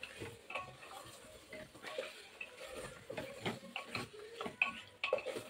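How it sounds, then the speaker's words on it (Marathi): Mutton and masala are stirred together in a pot, with irregular scraping and clinking strokes of a spoon over a soft sizzle, close up and moderately quiet, and no talking. "मटण आणि मसाला एकत्र करून घ्यायचं आहे छान असं."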